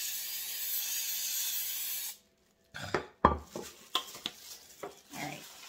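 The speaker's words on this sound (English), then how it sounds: "go ahead and spray the pan" Cooking spray hisses steadily onto a pan for about two seconds, then stops, followed by several clattering knocks and scrapes of kitchenware.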